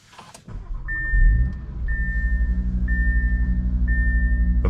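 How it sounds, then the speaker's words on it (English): A 2024 Audi RS3 8Y five-cylinder engine cranks briefly and fires with a loud flare, then settles into a throbbing, pulsing idle while a dashboard chime repeats at regular intervals inside the car. "The 5-cylinder engine sounds so unique."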